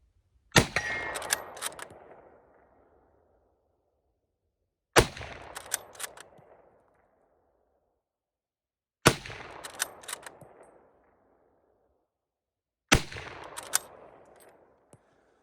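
Four loud rifle shots at an outdoor range, Springfield and Enfield rifles, each a sharp crack followed by a rolling echo that fades over a couple of seconds, evenly spaced with quiet between.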